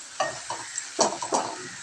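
Spinach cooking in a pan, sizzling softly as it is stirred in a few quick scraping strokes, close and moderately quiet with no talk.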